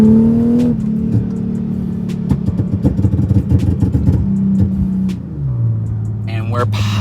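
Infiniti G37 with a flame tune downshifting, engine revs dropping in steps with a burst of sharp, crackling exhaust pops close by, then settling to a lower steady drone.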